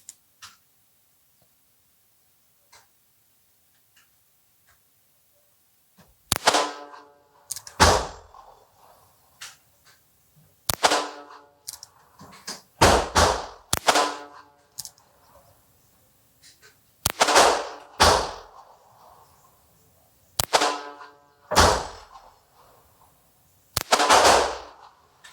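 Single-action shots from an H&R Model 299 .22 LR snub-nose revolver, a dozen or so sharp loud cracks fired in uneven clusters after a few seconds of near silence, each with a short ringing tail.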